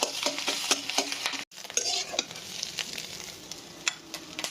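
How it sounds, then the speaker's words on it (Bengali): Onions and chilies sizzle in oil in a pan for fried rice, with repeated spatula scrapes and stirring clatter over a steady frying hiss. "প্রথমে পেঁয়াজ মরিচ ভেজে নিচ্ছি"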